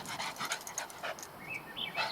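A dog pants close by in quick, breathy bursts, with a few high whimpers mixed in; fairly quiet with no voices.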